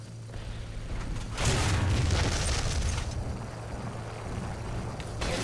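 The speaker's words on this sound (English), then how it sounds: "there's the shot that came in from the right from the other T-34" A tank shell from a T-34 slamming into armor in War Thunder gameplay, a loud booming impact burst that swells and rumbles for a few seconds before fading into a lower background roar.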